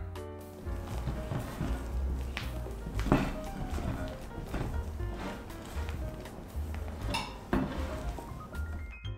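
Walnut and date cake batter is folded together with egg whites in a bowl, producing repeated soft scrapes and light clinks of a spatula against the bowl at close range.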